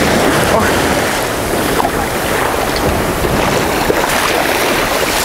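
Sea waves wash against the beach of the Yalıhan hotel in Turkey, a loud, constant roar of surf with wind buffeting the microphone.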